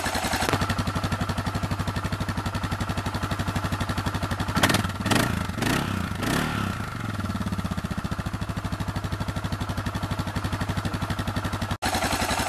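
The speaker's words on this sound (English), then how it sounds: "Thought everyone would like to hear what the bike sounds like. It's just a factory exhaust on it," Suzuki DR650 single-cylinder motorcycle on its factory exhaust idles with a steady, loud thumping pulse, blipped a few times mid-way into brief rising revs before settling back to an even idle.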